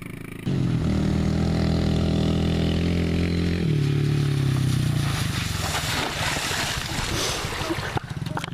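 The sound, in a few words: dirt bike engine revving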